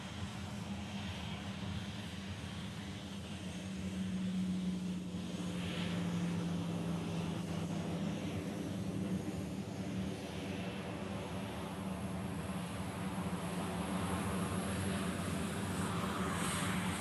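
An Alaska Airlines airliner comes in to land at Honolulu airport, its engines a steady broad roar that swells slightly partway through and holds at a constant distance, with no talk over it.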